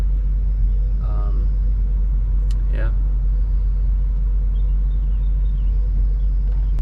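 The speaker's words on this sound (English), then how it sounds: "I've been sitting in the car idling" A 1983 Mercedes 500SEC idles with a deep, steady low rumble from inside the car, while someone speaks briefly over it.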